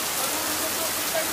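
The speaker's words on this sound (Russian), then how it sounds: "она вот в таком жутком ливневом потоке" Heavy downpour sends a torrent of rainwater flooding down a street in Gurzuf, Crimea, a steady dense roar of rain and rushing water with no pauses, loud and close throughout.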